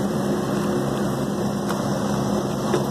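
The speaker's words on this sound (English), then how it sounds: "we apologize for the noise, we're sitting right next to a air conditioner." A nearby air conditioner drones with a steady, loud, even hum that fills the whole stretch without pauses or changes.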